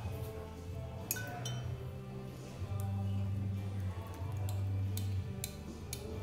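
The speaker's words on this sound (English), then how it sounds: "Now we're just going to open the bottle." Wine bottle being opened with a corkscrew, with small metallic clinks and a few sharp squeaky ticks over a steady low hum in a quiet room.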